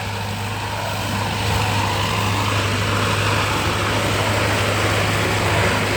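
A loud engine drones steadily with a low humming tone, running continuously close by, no talk.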